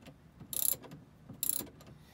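Ratchet tightening bolts on a power pole mounting bracket on the back of a Triton bass boat, giving two quick bursts of close, sharp clicking separated by a pause.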